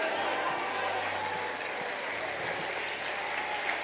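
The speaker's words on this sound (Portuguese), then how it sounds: "Se essas palmas são de esperança, aumente elas" A church congregation clapping, a broad, steady roar of applause heard from a distance with a low hum underneath, continuous and fairly even.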